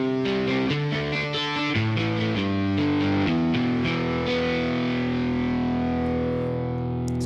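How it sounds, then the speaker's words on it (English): A Yamaha YC stage keyboard plays a guitar-style voice through its amp distortion effect: a run of gritty, buzzing notes and chords, then a held chord ringing out loud and sustained with no talking. "I want to go ahead and I want to kick in the distortion on my amp"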